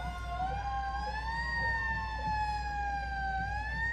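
A fire engine siren from the Spencer Fire Department rolls along in a holiday caravan parade, wailing steadily and rising and falling slowly at moderate distance over a low crowd and engine rumble.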